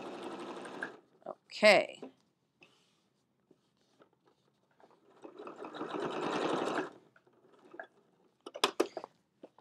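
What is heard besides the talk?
sewing machine quilting a fabric basket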